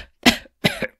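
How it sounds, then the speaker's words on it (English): Two short coughs from a concert audience member between movements, close and distinct, separated by a brief silence, the second a double burst. "Don't forget the barrage of coughing in between movements."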